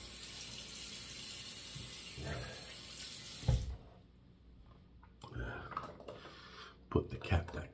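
Running tap water over hands being rinsed after applying shaving cream, a steady broadband rush for the first three and a half seconds, then stopping, with quieter handling sounds and brief bursts afterward.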